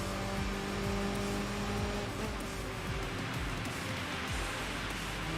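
Race cars in Enthusia Professional Racing circle a wet track at over 100 mph, a steady dense engine drone with pitch sweeps as cars pass nearby, continuous and fairly loud with no talk.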